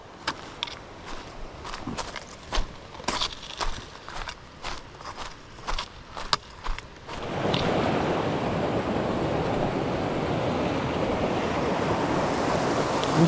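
The West Fork White River rushes in a loud, steady broadband roar that begins about halfway through, after a run of crunching footsteps along the trail, and stays constant to the end.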